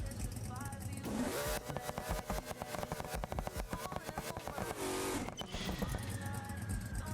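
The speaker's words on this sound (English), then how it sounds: "We're gonna do a quick little burnout and we gonna shake it." Simulated high-performance C6 Corvette ZR1 burnout in BeamNG drive, a loud sustained engine roar with revving and tire noise that swells and surges for several seconds, with some voice-like chatter mixed in.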